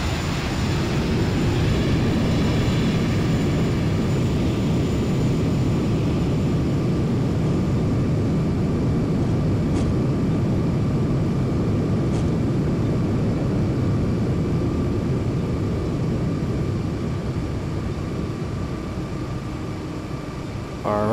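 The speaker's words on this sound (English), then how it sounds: "Reverse thrusters." An airliner's reverse thrust after touchdown in a flight simulator game landing at Merida Airport, heard as a loud, steady broadband engine roar that holds throughout with faint high whines and no speech.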